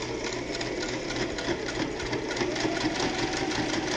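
A sewing machine stitches a fabric mask with a filter pocket, making a continuous, close, rapid mechanical chatter with a steady rhythmic pulse.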